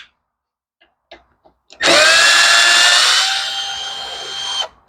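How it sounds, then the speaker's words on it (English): A cordless screw gun whirs for about three seconds in one loud burst, backing screws out of a gas-leaking backpack leaf blower, with faint handling clicks before it. "Let's grab our handy screw gun."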